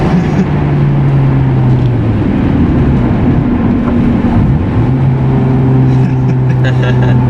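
A 2003 Honda S2000's four-cylinder engine revs loudly up close past 6,000 RPM, its droning pitch climbing, dipping and rising again, with voices underneath.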